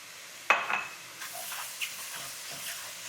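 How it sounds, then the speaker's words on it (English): Lemongrass hits a hot pan for a chicken stir fry, bursting into a loud sizzle that settles into a steady, softer hiss with a few light stirring scrapes. "And then I'm going to add the lemongrass. I'm going to cook this just a little bit."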